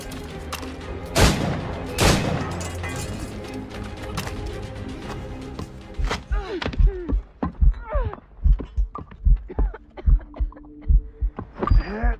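In Assassin's Creed Rogue, a poisoned character's slowing heartbeat thuds in a low, regular double pulse that grows more distinct and spaced out after a loud rumbling opening.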